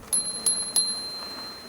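Three quick metallic rings from the bell built into the left brake lever of an Engwe L20 2.0 e-bike, each a bright short ding ringing out, heard close over faint outdoor ride noise.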